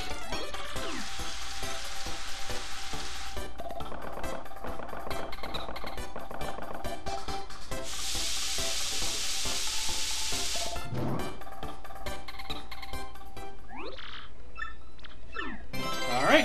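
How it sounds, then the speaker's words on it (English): Fried mushrooms cooking in Paper Mario: The Thousand-Year Door, a steady bright frying sizzle with stirring, rising in two loud bursts over game music, with no talking. "I'll have Zesty cook me up some fried shrooms"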